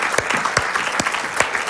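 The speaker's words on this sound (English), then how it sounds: "give them a little round of applause on the way out" Church congregation giving ministry team leaders a short round of applause, loose uneven clapping with a few sharp, distinct hand claps standing out over a softer spread of hands.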